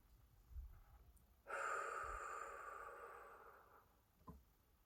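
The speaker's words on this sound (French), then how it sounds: "J'expire donc tout l'air de mes poumons." A person exhales all the air from the lungs in one long, forceful breath that starts abruptly and fades over about two seconds, close and quiet, followed by a short snort.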